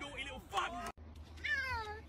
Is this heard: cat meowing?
yes